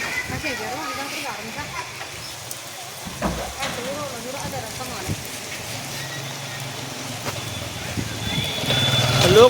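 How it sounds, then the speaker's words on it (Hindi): Steady rain falling outdoors, a continuous hiss of drops on surfaces that swells louder toward the end, with a person speaking over it. "लेकिन देखो बारिश हो गई।"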